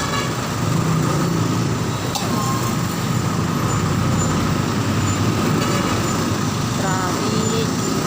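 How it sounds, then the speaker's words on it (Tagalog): Road traffic in the Philippines heard from inside a moving vehicle on a commute home, with a steady loud rumble of engines, buses and trucks passing close by and a brief air-brake hiss. "Traffic."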